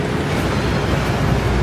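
A steady roaring rush of falling water from a waterfall in the video game Hogwarts Legacy, broadband and continuous throughout with no break.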